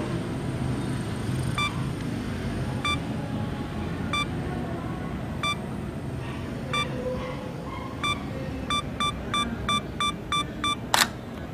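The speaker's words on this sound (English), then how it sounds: "Let's do it with the 10-second timer." A Sony A6000 camera on a 10-second self-timer gives steady, evenly spaced beeps that speed into a rapid run of beeps near the end, followed by a sharp shutter click, all over a low background rumble. No one speaks.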